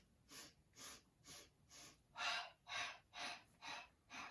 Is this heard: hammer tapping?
no